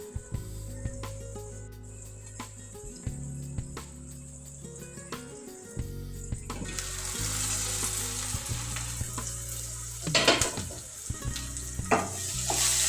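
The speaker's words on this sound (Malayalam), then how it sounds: "നമ്മൾ സവാളൻ്റെ കളറൊക്കെ മാറി വന്നിട്ടുണ്ട് നമുക്ക് തക്കാളിയും പച്ചമുളകും ചേർത്ത് കൊടുക്കാം" Onions, tomato and green chilies sizzle and crackle steadily in a hot pan for a chickpea curry, with occasional stirring scrapes and a louder burst of frying partway through.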